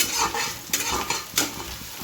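Onions frying in oil in a home kitchen: a steady broadband sizzle with a few sharp clatters from stirring, close and fairly loud, with no talking.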